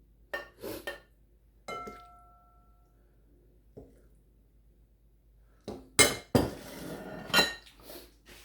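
Dishes clink and clatter as buttered egg noodles are plated onto a presentation dish for Swedish meatballs: a few sharp, close knocks and ringing chinks, sparse at first, then a busier cluster near the end.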